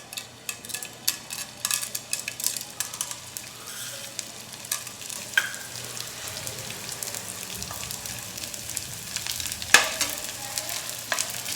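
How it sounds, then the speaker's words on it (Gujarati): Edible gum (gond) frying in hot ghee in a kadai while being stirred, soft continuous sizzle with scattered scraping clinks of the spoon against the pan, close and moderate in level. "ગુંદને આપણે આ રીતે ફેરવતા જઈશું જેથી સારી રીતે બધી સાઈડથી ફ્રાય થઈ જાય"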